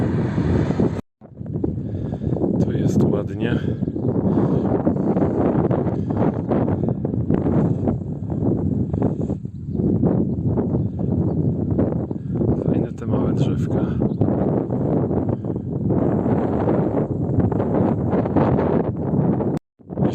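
Strong headwind buffets the microphone in a continuous roar while cycling downhill in Morocco, with a voice speaking over the gusts.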